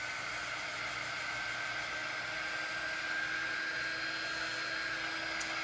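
A handheld hair dryer blows steadily on a freshly applied coat of Mod Podge, a continuous close whirring airflow with a high whine, holding even loudness throughout with no talking.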